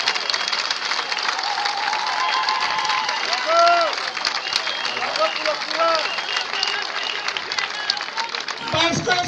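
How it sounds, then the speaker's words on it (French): Audience applause at a public assembly, steady clapping from a crowd with murmuring voices and cheers mixed in for about nine seconds, moderately distant and continuous. "Et je voudrais qu'on applaudisse."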